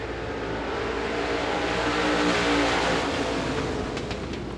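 Limited modified race cars roar together in a heat race at Devil's Bowl Speedway, a loud, continuous engine drone that swells near the middle and eases slightly at the end.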